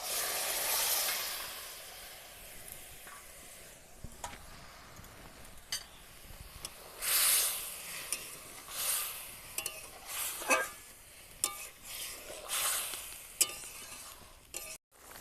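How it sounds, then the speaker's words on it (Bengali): Boiled chickpeas and their water in a pot of oil-rich masala make a soft hiss, broken by scattered clinks and scraping stirs that come in irregular bursts at a fairly low level. "এবার আমি এই সিদ্ধ করা ছোলা জল সহ দিয়ে দেব।"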